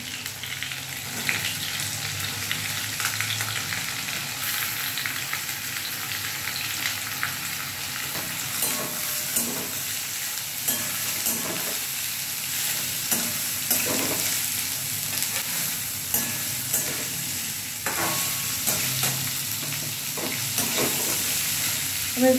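Sliced bitter gourd and potato fry in a generous amount of oil in a pan, giving a steady, dense sizzle with occasional stirring scrapes throughout, and no talk.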